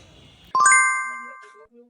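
A mobile phone ringtone, a bright chiming tone that starts abruptly and rings steadily for about a second before cutting off, loud and near.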